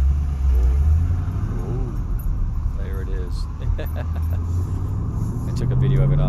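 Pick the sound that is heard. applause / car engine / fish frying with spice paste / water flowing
car engine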